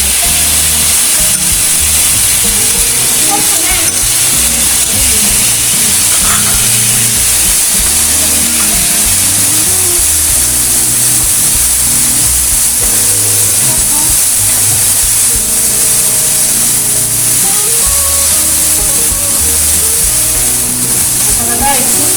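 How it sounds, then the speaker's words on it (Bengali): Chhana fries with raw spices in a pan, giving a loud continuous sizzling hiss that is steady throughout, with speech faintly mixed in. "কাঁচা মশলা দিয়ে একটু কষিয়ে নেব, নিয়ে আমি ছানাটা দিয়ে দিলাম"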